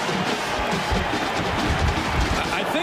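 Stadium crowd at a 2009 Notre Dame at Stanford college football game roars and cheers after a play in the end zone, a dense, sustained wash of voices and clapping with no break.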